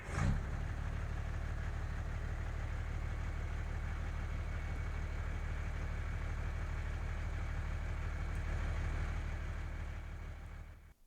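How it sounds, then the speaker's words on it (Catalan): A large truck engine rumbles steadily at idle, loud and close, holding an even low drone throughout before cutting off at the very end. "per tant engeguem aquest motor"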